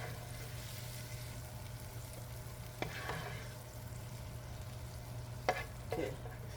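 Garlic shrimp frying in a pan, a steady soft sizzle with a couple of brief stirring scrapes, close and fairly quiet with no talking.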